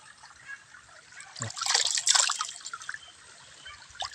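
Cold water from a small stream splashed up by hand while washing the face outdoors, a bright, irregular splashing and trickling that builds to a loud burst in the middle and then keeps dribbling, with no talk over it.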